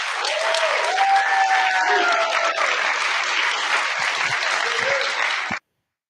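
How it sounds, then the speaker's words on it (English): A graduation audience at a wildfire crew ceremony gives a sustained, even round of clapping, loud and close, with a few faint whistles, before it cuts off abruptly. "One round of applause for them."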